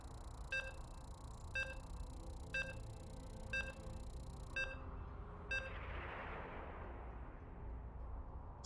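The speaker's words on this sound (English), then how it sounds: "And you can hear the beeps." Six clear electronic beeps sound about one second apart over a steady background hum during a weekly online game tournament stream, followed by a swell of broadband noise.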